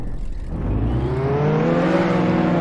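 Race cars in the Roblox game Jailbreak, a Challenger against a Ferrari, launch from a start and accelerate hard, engines rising steadily in pitch as they pull away, loud and continuous.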